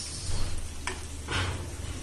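Pieces of pre-fried hilsa fish go into a pan of simmering fish curry with green banana and potato, giving a soft, steady sizzle with a couple of brief utensil clinks.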